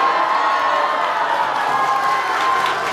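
Applause and cheering from a live crowdtalk comedy audience in the Deyunshe crossstalk style, with loud, dense clapping and some whoops and shouts sustained throughout.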